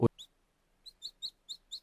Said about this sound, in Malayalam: അവന്റെ കൈകൾ ഒരു പാവം ചെറിയ പക്ഷിയിൽ തട്ടി